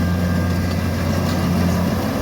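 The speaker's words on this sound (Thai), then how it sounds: "นี้ใช้เครื่องยนต์แบบเร่งใส่ เลยนะครับ" A steady engine drones close by, a low rumble with a constant hum that holds at one pitch throughout with no clear rise or fall.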